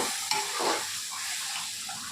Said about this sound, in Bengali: এবার আমি সয়াবিনটা ছেড়ে দেবো।